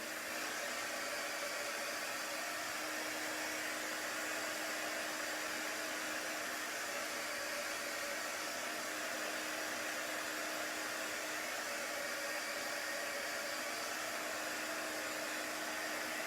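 Hair dryer or heat tool drying freshly chalk-painted craft pieces, a steady loud whirring blow with a constant hum running the whole time, uninterrupted and with no voices.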